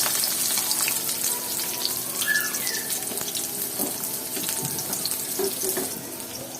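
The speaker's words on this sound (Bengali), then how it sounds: "কড়াইয়ে তেল নিয়ে নিয়েছি এরপরে দিয়ে দেবো বেশ কিছু পেঁয়াজ" Steady sizzle with a watery hiss of onions frying in oil in a wok, fairly loud and continuous, with occasional clinks and scraping from the pan.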